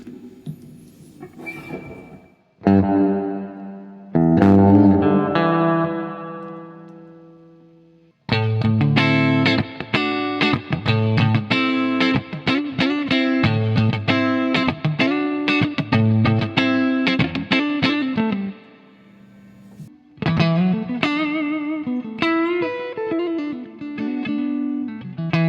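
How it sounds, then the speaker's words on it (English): Electric guitar played through a POLY Verbs reverb pedal on its brown face spring reverb tank setting, sustained chords and then a run of quick picked notes, with splashy spring decay ringing after each attack, loud and alone. "Do we have a like a reverb spring? Yes! Brown face reverb tank."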